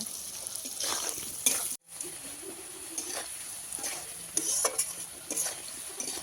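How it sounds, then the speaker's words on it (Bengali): Potatoes frying in a pan until browned, made for a winter vegetarian cauliflower curry, with steady sizzling and several bursts of stirring and scraping, a brief drop partway through, and close, moderately loud sound. "আলুগুলোকে ভালো করে লাল লাল করে ভেজে নেব"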